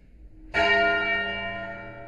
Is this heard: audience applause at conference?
no